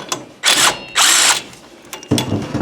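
Impact wrench loosening a bolt under the front end of a Troy-Bilt Pony riding mower, three loud close bursts of hammering whir separated by short pauses, no talk.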